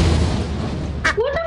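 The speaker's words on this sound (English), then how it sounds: "what's the cannon sound? Those are the lightning bolts." A lightning bolt strikes in the video game Lethal Company, a sudden loud booming blast that fills the clip and then fades, followed by a brief voice at the end.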